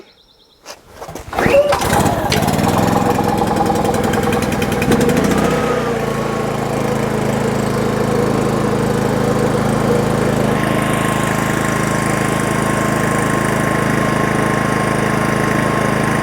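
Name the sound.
engine idling at higher revs after starting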